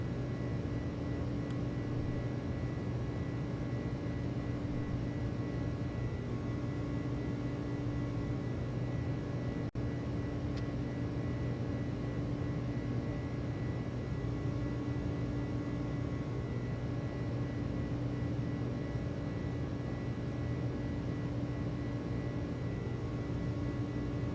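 Airbus A300 jet engines in Microsoft Flight Simulator 2024, lined up on the runway for takeoff, giving a steady, loud, unbroken roar and hum with no voices.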